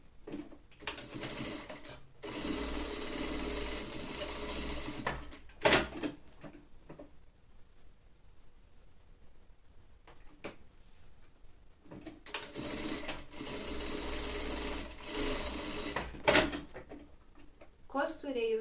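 A home sewing machine stitches the seams of a lined children's coat in several stretches of close mechanical whirring. The stretches are separated by pauses, with handling clatter and a person speaking nearby.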